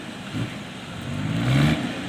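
An old Fuso 240 hp dump truck engine revs up in a short rising surge, rough and droning, heard from nearby with some background noise.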